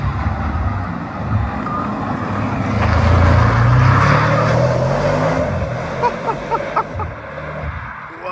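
An Audi RS6-R ABT with a 740-horsepower tuned engine revving, a deep loud rumble that swells in the middle and then settles into a lower idle with faint ticking.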